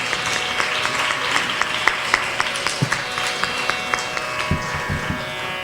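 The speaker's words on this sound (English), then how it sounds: "Let us all welcome Riya with a huge round of applause as she embarks to present the Varna" An audience at a Bharatanatyam arangetram applauds to welcome the dancer Riya before her Varna, a sustained round of clapping from a hall full of people with a few sharper individual claps standing out.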